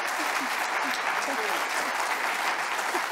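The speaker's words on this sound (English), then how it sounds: "let's give him a warm round of applause" A warm round of audience applause at a talk marking the Ziggy Stardust 50th anniversary, a steady, close wash of clapping that continues throughout with scattered whoops and faint voices mixed in.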